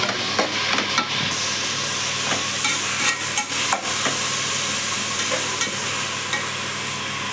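Onions and chopped tomatoes sauté in hot oil for tomato rice, a steady broadband sizzle with a spoon's scraping strokes and occasional clinks against the pan, close and continuous.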